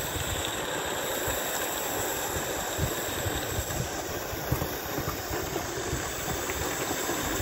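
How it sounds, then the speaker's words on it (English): A Roundhouse Engineering D-Class Garratt model steam locomotive in dark green runs at a summer steam event, giving a steady hiss and soft rhythmic chuffing, constant and moderately close with no talking. "We have the Roundhouse Engineering D-Class Garrett in dark green."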